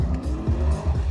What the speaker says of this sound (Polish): samochód, który legitymuje się mocą 500 koni mechanicznych, nie potrzebuje wiele, by przyczepność zerwać